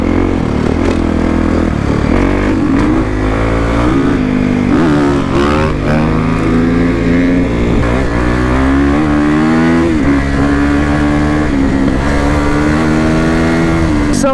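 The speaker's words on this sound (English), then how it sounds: "buddy here has his new Beta 390" A new Beta 390 dirt bike engine revs loud and close on a trail camp in the Tillamook State Forest, its steady rough drone rising and falling in pitch throughout, with no talk over it.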